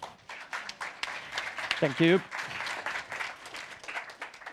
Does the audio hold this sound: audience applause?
yes